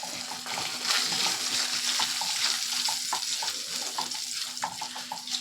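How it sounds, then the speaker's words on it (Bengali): Lentil bori frying in oil with bay leaf and five-spice, a moderate steady sizzle with light intermittent tapping and stirring clicks of a utensil, no talk. "সব বড়িগুলোকে একটু লাল লাল করে ভেজে নিতে হবে"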